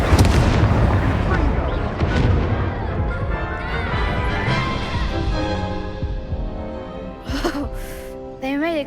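Incendio fire spells burst in Hogwarts Legacy combat, a series of loud booming blasts and crackles that fade into softer game effects and chimes near the end.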